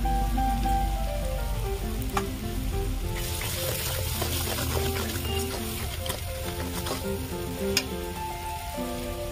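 Chili powder frying in hot oil in a pan for a goat fat chicken curry, giving a steady, loud, dense sizzle that crackles continuously close by, with no one talking.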